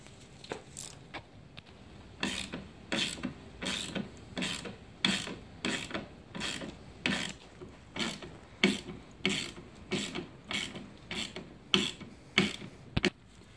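Ratchet wrench turning 10 mm bolts on a 2014-2020 Nissan Rogue radiator support, with repeated rhythmic clicking strokes close up, about one every second, with no talk.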